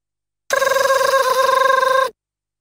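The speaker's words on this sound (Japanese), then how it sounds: "どこだどこで電話が鳴ってんだよ" A telephone from the JoJo's Bizarre Adventure PS2 game rings in one rapid, trilling electronic burst lasting under two seconds, loud and alone, bracketed by silence.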